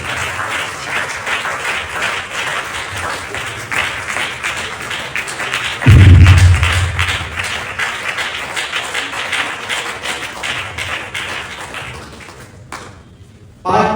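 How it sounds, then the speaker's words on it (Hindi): A congregation at a church service applauds with sustained, dense clapping, broken by a deep thud partway through, then the clapping continues before cutting off near the end. "हम लोग तालियों से स्वागत करें।"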